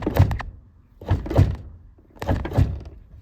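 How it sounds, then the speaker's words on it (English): A Ford truck door shifts on worn door pins, giving three dull, close thunks with a short creak in each, spaced about a second apart. "I'll pick up the door for you guys so you can see it move."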